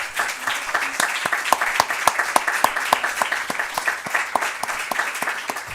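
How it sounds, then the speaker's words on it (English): Audience applause in a lecture hall after a talk on narrative medicine, with steady, moderately loud clapping of many hands throughout. "a big round of applause to Danielle and Arthur"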